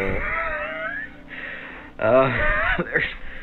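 A cat gives a few drawn-out, wavering meows, one louder cry near the end, with some breathy sounds between them.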